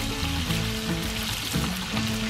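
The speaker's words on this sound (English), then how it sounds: "We crisp up some of that bacon good." Strips of bacon sizzle and crackle steadily in a very hot pan while crisping up for a BLT, a dense, continuous frying hiss close by with no talking.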